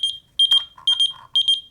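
A 1990s pager beeps in three quick bursts of rapid, high, chirpy electronic tones with brief pauses between them, close and clear over near silence.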